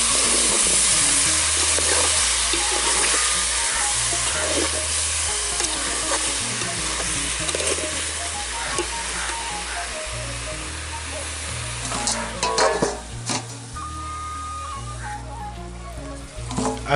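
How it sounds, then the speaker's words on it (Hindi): Finely chopped tomatoes frying in oil for a village-style pork curry, a steady loud sizzle with repeated scraping stirs of a spoon, growing busier near the end. "अब इसमें डालेंगे बारीक कटा हुआ टमाटर, अच्छे से मिक्स करके भूनेंगे।"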